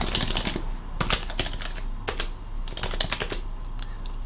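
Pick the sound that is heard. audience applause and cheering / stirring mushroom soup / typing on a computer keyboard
typing on a computer keyboard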